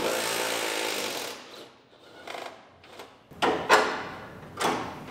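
Several short whirring bursts from a power tool unbolting the fender of a totaled 2019 GMC Yukon Denali from the firewall and cowl. The bursts are spaced out, fairly loud and close, with no talk.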